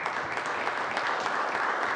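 Applause fills the Newfoundland and Labrador House of Assembly chamber as members clap together, a dense, steady patter that holds at an even level throughout, with no one speaking.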